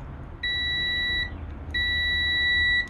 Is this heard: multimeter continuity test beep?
yes